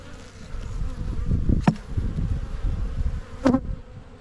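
Honey bees buzz steadily in an opened hive's top box, a close, continuous drone with a couple of sharp clicks from the frames or box being handled.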